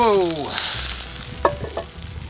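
Bacon sizzles loudly in a pan beside a Dutch oven, a steady hiss with a couple of sharp pops and clatters partway through, no talk over it.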